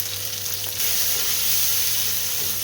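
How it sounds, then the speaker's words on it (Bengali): Onion fries in a pan with a steady, close sizzling hiss, briefly stirred near the start, continuous and fairly loud with no talk. "পেঁয়াজটা একটু ভালো করে ভেজে নেব।"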